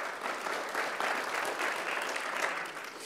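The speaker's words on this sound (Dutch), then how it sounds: "Ja, applaus." An audience at a Frisian list-leaders election debate for Noardeast-Fryslân gives steady, moderately distant applause, a continuous even patter of many hands throughout with no talk.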